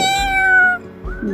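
A single cat meows clearly, up close and alone, as a drawn-out rising-then-falling call followed by a shorter second mew.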